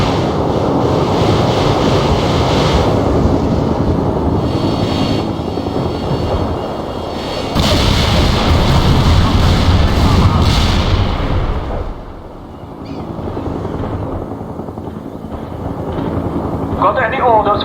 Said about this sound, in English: Heavy artillery firing for effect.